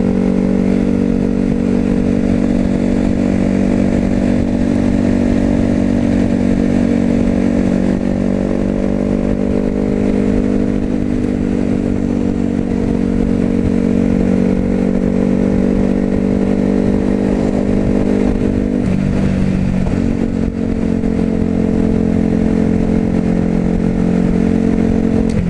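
A supermoto motorcycle at about 53 mph drones steadily on the road with heavy wind rush, its engine note holding a constant loud pitch and dipping briefly near the end.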